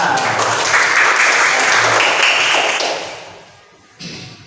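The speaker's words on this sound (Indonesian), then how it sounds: "Tepuk tangan yang keras." Classroom children clap loudly together in a dense, continuous burst for a few seconds before it tapers off and ends, with a brief thump after, heard close.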